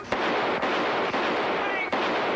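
Several gunshots in a 1950s Mike Hammer detective TV drama, sharp cracks at irregular intervals over a dense, noisy soundtrack.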